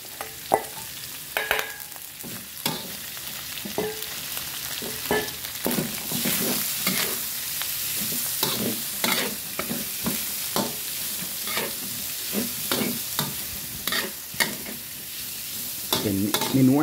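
Bamboo shoots being stir-fried in a pan in a northern Thai home kitchen: steady sizzling with repeated scraping and clattering of a utensil against the pan, close and continuous, with no talking.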